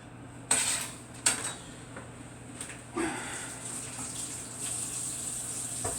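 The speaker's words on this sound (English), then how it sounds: "Let me wash my hands real quick" A kitchen tap runs while hands are washed after chopping meat, a steady close hiss of water with a few sharp clinks of dishes or a sink at the start.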